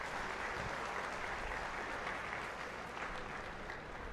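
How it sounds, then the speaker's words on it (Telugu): Audience applause at a Telangana BJP party meeting with central ministers, a steady, dense wash of clapping from a large crowd that holds level for the whole stretch with no speech over it. "మనము చప్పట్లతో మద్దతు తెలియాల్సిందిగా కోరుతా ఉన్నాం."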